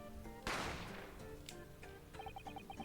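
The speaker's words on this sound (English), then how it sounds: "A gunshot rang out, so I hurried out to the dining area to see what had happened." A single sharp gunshot rings out in The Great Ace Attorney Adventures video game, a loud crack with a decaying tail, followed by quieter game chimes and ambience.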